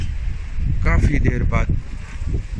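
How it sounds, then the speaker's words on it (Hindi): Cold wind blows steadily across a snowy mountain road, a low broadband rush with microphone buffeting throughout, while a voice speaks briefly over it in the middle. "इधर भी बर्फ़पोश चोटियाँ और काफ़ी ठंडी हवा चल रही है यहाँ पर।"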